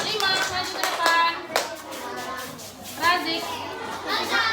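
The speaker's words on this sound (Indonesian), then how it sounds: "beri tepuk tangan untuk kelompok 4" Classroom children clap for a group of students during a coding and computational thinking lesson. The clapping comes in short uneven bursts, and children's voices and chatter run over it.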